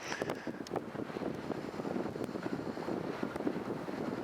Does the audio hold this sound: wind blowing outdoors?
yes